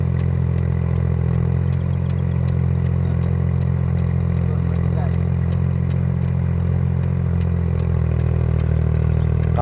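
A tractor engine tilling soil on a lemongrass farm, running as a steady loud drone with low harmonic hum and faint clatter, constant throughout.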